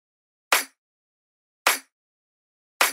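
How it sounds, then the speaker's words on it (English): A drum hit blending a snare and a clap, with the lows cut out so only the bright highs remain, sounds three times at an even spacing; each hit is sharp, crisp and short, with silence between. "It's actually a bit of a combination between a snare and a clap, and I used only the highs"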